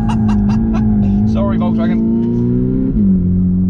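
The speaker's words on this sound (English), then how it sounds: "I'm going to go around a roundabout with plenty of lock, plenty of tyre squeal, lots of tyre squeal" Volkswagen Polo GTI circling a roundabout on plenty of lock, its engine droning steadily with a long, loud tyre squeal over it, close up, while a voice speaks briefly.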